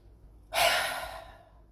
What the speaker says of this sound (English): hold it in, breathe it in, hold it, and then exhale out